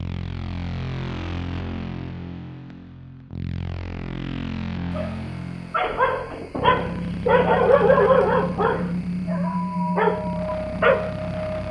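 A large dog defends its territory with deep barks and whimpering yelps, layered over a sustained tonal musical bed, the barking growing denser and louder in the second half.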